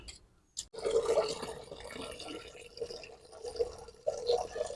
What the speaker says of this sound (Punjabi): ਜਿਹੜੀ ਆਪਾਂ ਦਾਲ ਭਿਓਈ ਹੈ ਆਪਣੀ ਦਾਲ ਫੁੱਲ ਗਈ ਹੈ ਇਹਦਾ ਹੁਣ ਆਪਾਂ ਪਾਣੀ ਕੱਢ ਲੈਨੇ ਆ